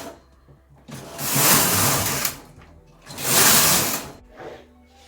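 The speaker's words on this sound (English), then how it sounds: "So I'm just going to continue knitting now." A 4.5mm standard knitting machine knits a headband as its carriage makes two loud, rasping passes across the needle bed, separated by a short pause, with a quieter mechanical shuffle at the end.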